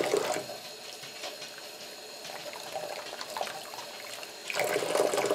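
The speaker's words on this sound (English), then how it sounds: "Rinse and squish until it pretty much runs clean." Wool dryer balls rinsed and squeezed under running water from a tap, a steady close splashing stream that swells louder at the start and end.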